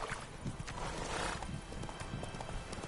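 Roach the horse galloping in The Witcher, rhythmic hoofbeats with a loud whinny, close and clear over game ambience.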